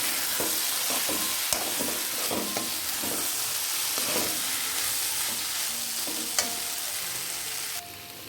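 Fried okra (ladies finger) is stirred into a tamarind gravy in a pan, giving a steady sizzle and bubbling with repeated soft scrapes and knocks of the spoon, close up and without talk.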